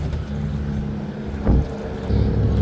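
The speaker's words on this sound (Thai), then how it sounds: "มาแล้วเสียงเรือตรงท้ายดึงแล้ว" A low boat engine drone with a short thump midway, then the engine swells louder as it pulls harder.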